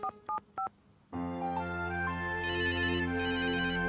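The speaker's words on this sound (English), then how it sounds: "yank out your phone," Three short beeps of a phone number being dialled, then a pause and a loud, sustained electronic ringtone melody with no talk.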